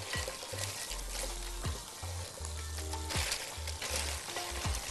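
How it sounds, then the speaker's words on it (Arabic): Salad with bread, corn and olives is gently tossed in a bowl, giving soft rustling, crisp leaf crunches and light scraping in an irregular rhythm, close and fairly quiet with no talking. "هحط الذرة، هحط الزيتون، وهقلب كل حاجة مع بعضيها تقليب خفيف كده"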